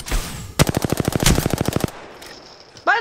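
Automatic weapon fire in Apex Legends: one loud, rapid, evenly spaced burst of about a dozen shots lasting over a second, followed by quieter in-game sounds and a short rising tone.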